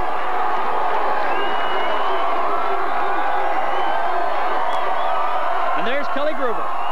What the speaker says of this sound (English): As the crowd gets a glimpse of a different player, you hear a roar